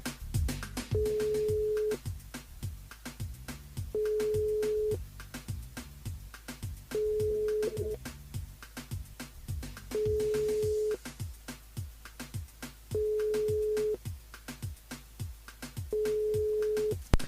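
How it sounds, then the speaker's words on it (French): Telephone ringback tone on an unanswered call: six evenly spaced, sustained tone bursts about two seconds apart, clear over a faint background with no voices. "ça sonne, mais ça répond pas"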